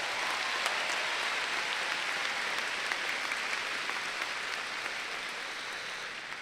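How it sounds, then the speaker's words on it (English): A large audience at the 2022 Rowlett High School graduation ceremony applauds in a dense, continuous wash of clapping that holds steady and only slightly eases toward the end, with no speech over it. "Let's give these top 10 students a big round of applause."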